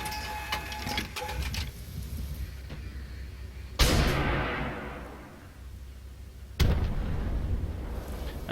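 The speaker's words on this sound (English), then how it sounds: "the missile system here is shooting upwards a lot, and then they angle down towards whatever I'm shooting at" Swingfire missiles launching and blasting in the Armored Warfare tank game, two sharp loud bursts a few seconds apart, each trailing into a decaying rumble over a busy battle background.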